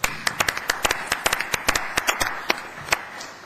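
Scattered clapping from a small audience at a school district board meeting, honoring the softball players: sharp, uneven hand claps at close range, thin rather than a full ovation, with no talking over it.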